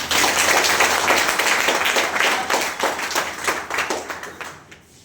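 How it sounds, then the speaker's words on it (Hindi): An audience claps loudly and steadily at a motivational speaking event, dense crowded applause that fades out over the last second without any talk. "एक बार जोरदार ताली दीजिए"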